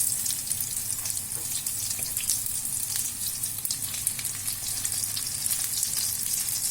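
Chicken nuggets fry in hot oil over slow heat, giving a steady, dense sizzle and crackle with faint watery bubbling, close and continuous with no talk.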